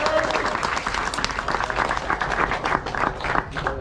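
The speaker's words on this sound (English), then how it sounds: "Let's give a round of applause" A crowd gives a sustained round of dense, steady clapping to welcome a new team at a lively event, with faint voices and cheers mixed into the applause.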